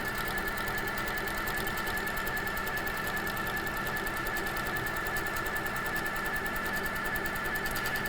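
HQ longarm quilting machine stitching feather patterns, a steady close mechanical chatter with a rapid even needle rhythm running continuously throughout.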